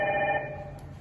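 An IP video phone call rings through a paging gateway of a 4G SIP intercom system, a faint steady electronic ring tone that fades over about a second, heard alone.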